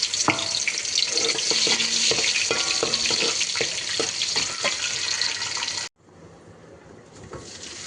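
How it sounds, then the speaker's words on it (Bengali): Bay leaf, cinnamon and cardamom frying in a pan, a steady dense sizzle with occasional stirring clicks that cuts off abruptly near the end, leaving a quieter, softer hiss. "তেজপাতা, দারুচিনি, এলাচি দিয়ে একটু ভেজে নিলাম"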